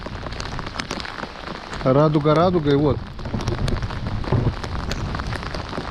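Steady rain falling on a river during a thunderstorm, a continuous broadband patter heard throughout, with someone briefly speaking over it near the middle.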